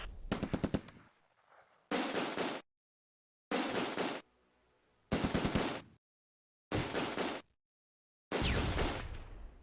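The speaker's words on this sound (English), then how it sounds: "We're under heavy fire." Machine gun fire in the video game Close Combat: A Bridge Too Far, in a WWII Operation Market Garden battle at Groesbeek Heights. Five or six loud, sustained bursts of rapid automatic fire are separated by short silent gaps.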